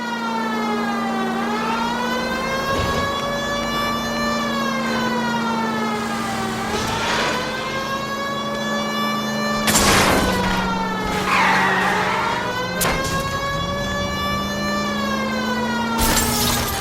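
A police car chases a stolen green Kaiser Frazer in the 1940s Los Angeles game L.A. Noire, a loud wailing siren rising and falling throughout, with tyre skids and bursts of crashing noise, no talking.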